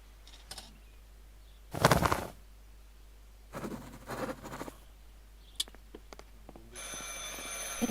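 Telephone ringing in the video game Martha Is Dead, a short burst of electronic ringing over quiet ambient game sound with a few faint clicks and rustles.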